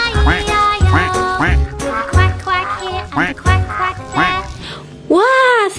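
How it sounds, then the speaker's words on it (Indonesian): A goose gives loud, close honking calls in a quick repeating series of harsh, nasal cries, with a final drawn-out honk at the end. "Wah, dan ini ada angsa, teman-teman"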